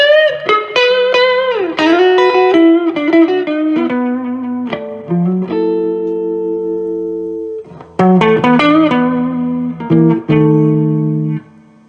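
A 1964 Fender Super Reverb amp with reverb on about 3 carries an electric guitar, a run of picked notes and sustained chords ringing out with a lingering wash, loud and close.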